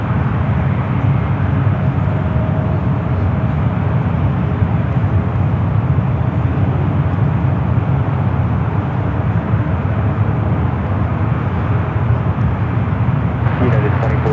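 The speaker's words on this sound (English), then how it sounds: "British Airways Flight 284 heading bound to London Heathrow. This 12-year-old A380 Super." A twelve-year-old British Airways A380 airliner departing San Francisco airport, a loud sustained engine roar that holds steady throughout, with someone talking over it.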